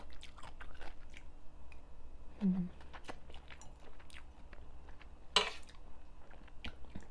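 Chewing and biting on spicy Thai-style pounded cucumber salad with fermented fish sauce, soft close mouth sounds with a sharper crunch partway through and faint background noise, no talk.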